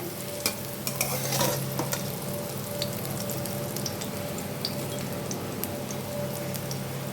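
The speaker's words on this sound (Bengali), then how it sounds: "এইখানে আমার উচ্ছেটা ভাজা মোটামুটি ভাজা হয়ে গেছে" Sliced bitter gourd fries in oil, a steady soft sizzle and crackle running throughout, with a few light stirring scrapes early on, close up and without any talking.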